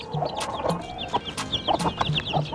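Gurk chicken chicks chirping in a group, a busy overlapping chorus of high peeping calls close by, with some lower clucking mixed in and no talking.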